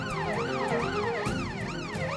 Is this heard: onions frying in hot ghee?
no